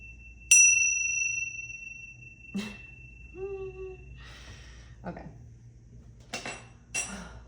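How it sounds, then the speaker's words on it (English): A small bell is struck once, giving a bright ding that rings on and fades slowly, followed by scattered clinks and clatter with a voice in between. "Let's get a bell."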